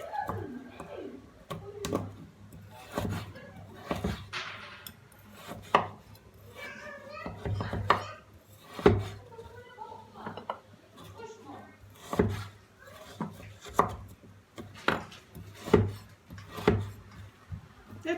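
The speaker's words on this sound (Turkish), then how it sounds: "O yüzden haşlayacağı için iri doğratıyor arkadaşlar." Meat is chopped into large pieces for boiling, giving repeated sharp knife thuds on a wooden board in an irregular rhythm, close and clear, while someone talks over much of the chopping.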